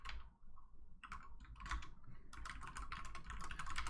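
Rapid, busy typing on a computer keyboard, a steady stream of close clicky keystrokes with brief pauses, heard during an online game broadcast with no talking.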